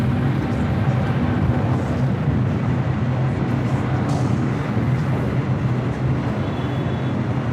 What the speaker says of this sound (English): American 777 at 300 ER heading to Sydney. Flight 73 now taking off on the south side at 25 right.